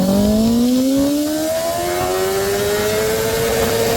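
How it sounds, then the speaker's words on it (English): A Honda CBR1000RR liter-bike motorcycle pulls hard in first gear on a closed track, its engine note climbing steadily in pitch over four seconds, loud and close, with a brief dip where the rising whine resets before climbing again. "one last pull in 1st gear on this closed track just to see what it'll do"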